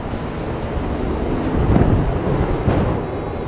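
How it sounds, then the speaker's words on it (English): A wind tunnel running for flow visualization gives off a steady, loud rushing roar of moving air that swells slightly midway, broadband and continuous with no voices. "I'll put the wind tunnel on so we can get some air through"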